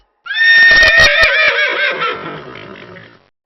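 A horse lets out one loud, close whinny that starts high and shrill, then shudders and trails off into fading, breathy nickers.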